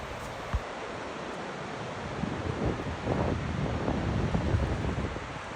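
Powerful rushing water of the whirlpool below Niagara Falls roars continuously, a broad wash of noise that swells slightly louder midway, with wind buffeting the microphone.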